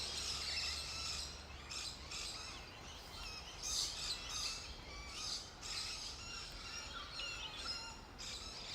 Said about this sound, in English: I hear the sound of a different bird, a new presence.